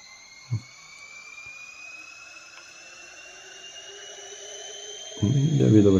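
An airplane engine in the Easy Flight Simulator game on Nintendo Switch throttling up, a steady rising whine that builds gradually, then a louder roar kicks in near the end, with a brief thump early on.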